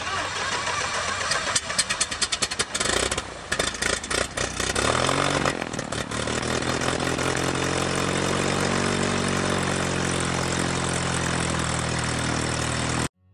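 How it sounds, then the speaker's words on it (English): A Diamond DA-40 aircraft engine starts and runs up after an oil change, propeller turning with a loud, steady, close roar that stutters briefly early on before settling into an even drone, then cuts off abruptly at the end. "we'll take the aircraft out and run it to make sure that the oil pressure comes up"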